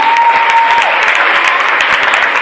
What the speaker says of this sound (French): Je veux que tu l'acclames même. Acclame-la.